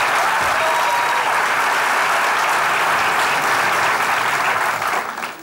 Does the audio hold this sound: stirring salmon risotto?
no